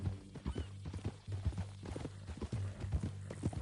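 Horse hooves clip-clop in an uneven rhythm of sharp close knocks, with a few faint snorts and no speech.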